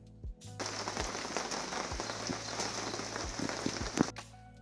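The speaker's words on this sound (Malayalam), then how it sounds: "ഇപ്പോൾ ഇവിടെ നല്ല മഴ പെയ്തുകൊണ്ടിരിക്കുകയാണ്" Heavy rain falls outside in a steady, dense patter with scattered louder drops, fairly quiet and distant, with a low constant hum beneath and no talking.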